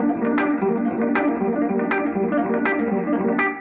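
A distorted electric guitar with chorus plays a fast, repeating minor arpeggio pattern with pull-offs, a steady rhythm of picked notes with regular accented attacks, loud and solo.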